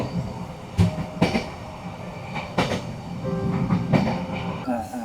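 A Vietnamese passenger train runs on its tracks with a continuous rumble, sharp irregular clanks and squeals from the wheels and cars, and a few muffled voices underneath.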